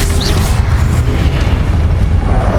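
A Confringo blasting spell bursts in Hogwarts Legacy with a loud, deep boom. Its rumble stays dense and sustained, with a brief bright whistle at the start.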